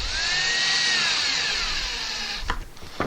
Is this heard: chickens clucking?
no